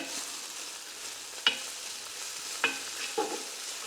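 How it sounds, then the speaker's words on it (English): Garlic sizzles in a pan alongside cooked bacon, a quiet, even frying hiss broken by three sharp utensil clicks against the pan while it is stirred. "So now we can add the garlic. Fry that up for a minute."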